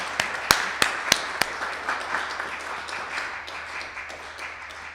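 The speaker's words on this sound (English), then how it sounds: "Let's have a round of applause for Church Treasurer Margaret Griswold." An audience at a radio theater show breaks into applause, starting with a few sharp claps and swelling into a dense patter of clapping from many hands that slowly fades.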